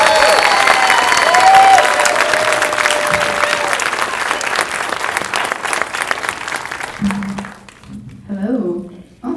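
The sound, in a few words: applause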